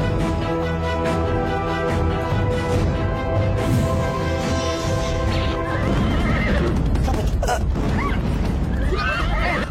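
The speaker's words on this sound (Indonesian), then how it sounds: "Cepat kejar kuda itu!" A horse whinnies loudly and repeatedly while hooves clip-clop at a gallop, over a dense, busy dramatic soundtrack. The neighs are strongest early on, and the hoofbeats and a commotion continue afterward.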